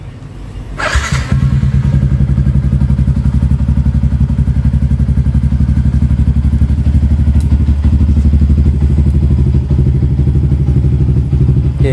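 A standard Yamaha Y15ZR motorcycle fitted with a KOZI ECU fires up after a brief crank and settles into a steady, loud, close-up idle with a rapid thumping exhaust pulse.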